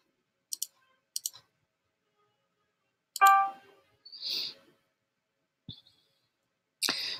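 Computer mouse clicks while placing notes in music notation software: a few sharp double clicks, separated by quiet gaps, with a couple of brief softer bursts of other sounds between them.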